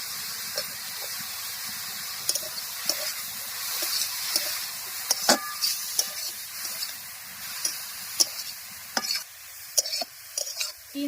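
Chopped vegetables, including diced tomato, frying in a pan while being stirred, a steady close sizzle and hiss broken by scraping clacks of the spoon against the metal, with no voices.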